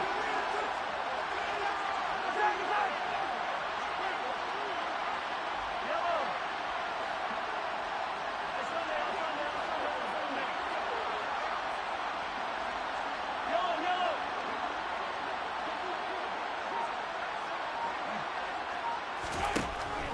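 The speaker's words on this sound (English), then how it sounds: "Listen to this crowd now." Roaring football stadium crowd at a Chiefs-era NFL game during a tense two-point conversion attempt, a steady dense wash of cheering and noise lasting throughout, with a commentator's voice running over it.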